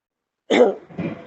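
A single close cough bursts out suddenly after silence, followed by a softer second rasp, loud and throaty.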